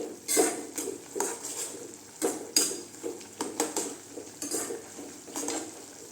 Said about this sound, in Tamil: சேர்த்து நல்லா கலந்து விட்டுக்கலாம்.